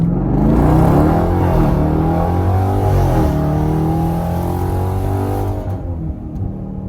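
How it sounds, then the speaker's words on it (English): A Dodge Durango Hellcat with an AWE Touring catback exhaust roars steadily under wide-open-throttle acceleration from a stop, the pitch sweeping upward through gear changes before easing off near the end. "we're going to get a little wide open throttle from the stop with the exhaust now"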